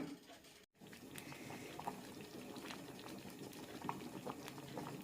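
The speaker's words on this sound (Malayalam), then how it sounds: "കറി തിളയ്ക്കാൻ തുടങ്ങിയിട്ടുണ്ട്" Curry bubbles at a steady rolling boil in a pot on the stove, a dense, continuous simmering wash that carries close and even throughout, with no voices.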